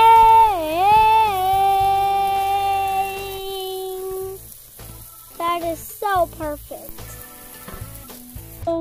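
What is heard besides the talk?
ribeye steak sizzling in Inferno Mode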